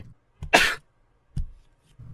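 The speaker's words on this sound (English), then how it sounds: "That painting just coughed." A haunted painting in a hidden-object video game gives a close, sharp cough, followed by a smaller throat-clearing burst and a faint third sound, with quiet pauses between them.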